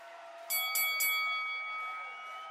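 Cat collar bell in the TCG Card Shop Simulator video game, three quick bright jingles in succession that ring on briefly and fade, with no talk over them.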